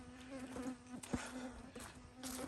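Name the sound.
mosquitoes buzzing around the ears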